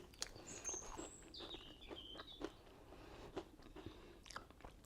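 Homemade crunchy cookies bitten and chewed close up, with a series of crisp crunches and chewing sounds spread over several seconds while faint bird chirps sound in the background.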